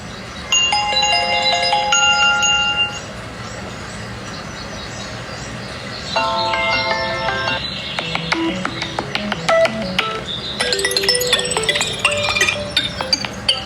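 A phone ringtone plays in bursts of bright repeating electronic tones, loud and close, with a pause partway through before a busier chiming pattern resumes.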